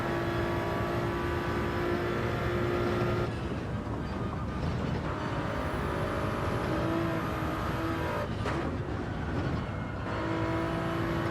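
Mazda RX Vision race car engine in Gran Turismo 7, a loud continuous high-revving drone with rising and falling pitch as the car shifts down through gears, steady and close throughout.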